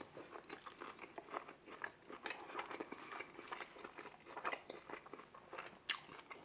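Someone chews garlic naan during an Indian food meal of curry and tandoori chicken, giving close, quiet crunchy bites and wet mastication in irregular bursts, with no talking.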